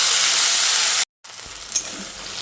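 Spice paste with ginger, tomato and green chili sizzling loudly in hot oil for a potato curry, a strong close hiss that cuts out briefly, then returns softer with faint clatter.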